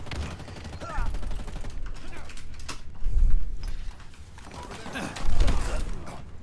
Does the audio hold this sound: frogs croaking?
no